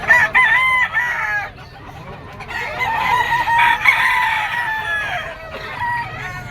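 A yellow-legged banderado rooster at a holiday pet market in Bocaue crows loudly and close, two long cock-a-doodle-doo calls with clucking and market noise in between.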